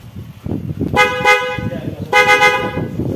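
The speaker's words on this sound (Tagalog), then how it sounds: "So stock horn, loud horn." Two loud horn blasts from a Honda ADV motorcycle, about a second each, with engine rumble and voices underneath.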